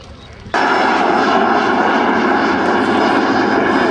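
A race plane engine roars at the Oshkosh airshow, a loud, steady, high-pitched drone that starts abruptly and holds without letting up.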